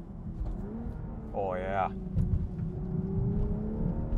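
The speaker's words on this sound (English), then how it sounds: "This has rev matching as well, so we're gonna get a feeling for both of those." The engine of a 2023 Toyota Supra with a manual gearbox and rev matching hums steadily from inside the car, its pitch rising slowly under a brief spoken exclamation.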